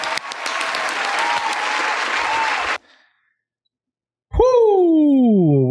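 Podcast summit audience clapping loudly and steadily, then cutting off abruptly to silence, followed by a loud tonal sound that rises and falls.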